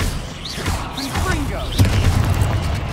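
A Confringo spell in Hogwarts Legacy erupts as a deep, loud boom with a rumbling tail beneath other spell effects and a character's voice.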